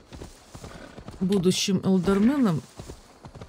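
Hoofbeats of a galloping horse in Assassin's Creed Valhalla, a rapid run of clip-clops throughout, with someone talking over the middle of it.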